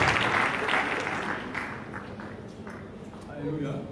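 A church congregation applauds with a dense, steady wash of clapping that slowly thins out, while a voice talks over the crowd.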